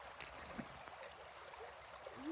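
A small stream flows outdoors along a mini river system, a steady soft trickle and gurgle of moving water close by with no voices over it.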